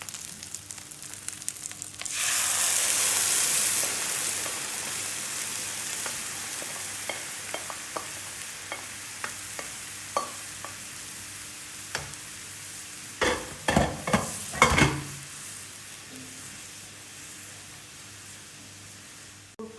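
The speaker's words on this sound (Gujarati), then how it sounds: "હવે દાળ નાખીશ બાફેલી" Boiled split black urad dal is tipped into a hot pan of oil with curry leaves, ginger and crushed green chillies, giving a loud burst of sizzling that settles into steady frying with scattered stirring scrapes and a cluster of spoon clatters near the end.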